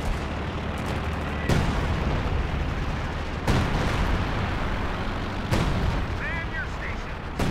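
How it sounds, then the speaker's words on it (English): Artillery barrage in Company of Heroes 2, heard as a dense, steady roar of distant rumbling with three sharper booms spaced a couple of seconds apart and a faint whistling streak near the end. "And major artillery coming down here."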